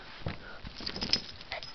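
A puppy sniffs in short quiet bursts close by, with faint soft whimpers mixed in, all low in level with no talking.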